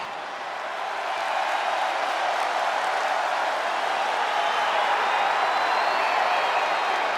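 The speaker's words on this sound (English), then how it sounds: "Clap for your tag champs and feel the power." A wrestling arena crowd applauds tag team champions in a WWE game, a dense, steady wash of clapping and crowd noise that swells in and holds at an even level throughout.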